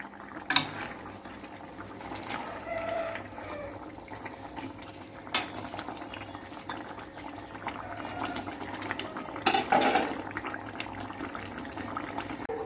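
Pieces of bata fish are slipped one by one into a bubbling, boiling gravy for a spicy oil curry. Soft plops and splashes rise over a steady low simmer, with a couple of sharper clinks.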